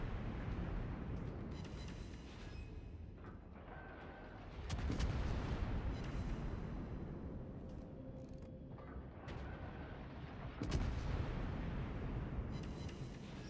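Naval guns fire in a warship battle game, with two heavy booming salvos rising out of a constant low rumble of engines and distant battle noise.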